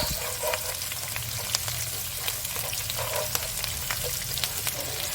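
Fifteen chopped chillies frying in hot oil for sizzling chicken, a steady close crackle and hiss with scattered sharp pops, no voices over it.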